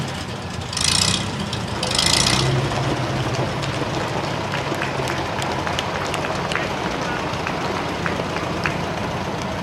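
A Massey Harris tractor engine runs steadily at a harvest festival, a close, rough mechanical rumble. Two brief hissing bursts come early, and faint background chatter sits under the engine.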